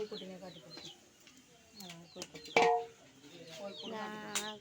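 Chickens cluck and call around a mud-built coop in a village yard, faint and intermittent with one sharper squawk, under a quiet background of voices.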